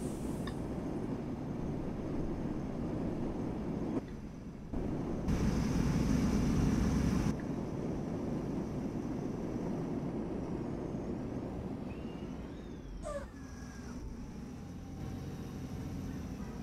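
Mercedes-Benz O500U bus in OMSI 2 accelerating up a steep hill, a steady low engine drone that surges louder for a few seconds, then settles, with brief mechanical whines and no speech.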